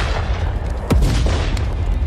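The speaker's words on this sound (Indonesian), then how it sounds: "Kali ini ledakan besar terdengar." A big explosion sound effect: one sharp, loud boom bursting out near the middle, its deep rumble dropping away quickly over a steady low roar, with no voices.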